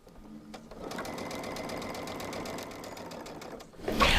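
A sewing machine runs steadily for free motion quilting, its needle hammering out a fast, even stitching rhythm for about three seconds at close range before a louder rustling burst at the end.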